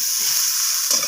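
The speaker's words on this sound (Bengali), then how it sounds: "সমস্ত কিছু এইভাবে নাড়াচাড়া করে আমি সবজির সাথে এইভাবে ভেজে নিচ্ছি" Bottle gourd greens and poppy seed fry with red chili and cumin powders, giving a loud, close sizzle and a quick stirring scrape near the end of a single brief moment.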